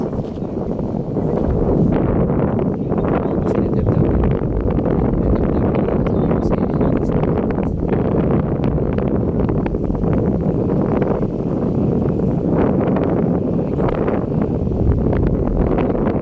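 Strong wind roars steadily across the microphone for the whole stretch, a dense, unbroken rushing blast with no voices.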